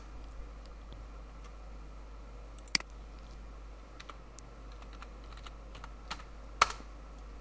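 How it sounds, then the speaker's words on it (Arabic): Sparse keystrokes on a computer keyboard while a password is entered for a Cisco switch, a few isolated clicks and taps spread over a low steady hum. "اكتب الباسورد اللي هو احمد بي سي"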